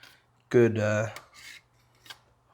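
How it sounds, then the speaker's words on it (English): A spatula scraped clean of spackle against the rim of a tub during drywall hole repair: one loud, gritty, slightly squeaky scrape of about half a second, then two fainter scrapes and a small tap, close up with no talk. "I'm going to remove this spackle from my spatula, put it back into the tub"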